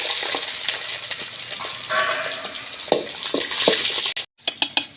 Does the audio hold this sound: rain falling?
no